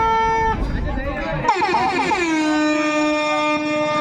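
A loud, sustained air horn blares at a night-time kabaddi match, its steady tone running through the whole moment over crowd noise and voices.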